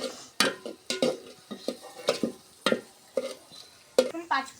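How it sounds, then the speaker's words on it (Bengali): Bay leaf, chopped onion, crushed garlic and whole dried chilies fry in oil for a home-cooked dal, with a soft sizzle beneath repeated close scraping and clinking of a spoon stirring in a pan, no talk. "তেজপাতা, তারপরে পেঁয়াজ কুচি, থেতা করা রসুন আর গোটা শুকনা ঝাল। এখন ভেজে নেব।"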